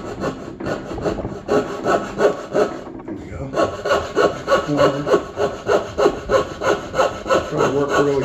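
A hand pull saw cuts through timber for a timber-framed table base, a close, loud, rhythmic rasp of repeated strokes with a brief pause partway through, no talking.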